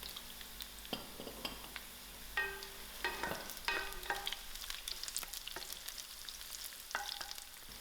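Mustard seed and green chilies sizzle and fry in a pan, with scattered sharp pops, crackles and occasional metal clinks of stirring over a steady hiss.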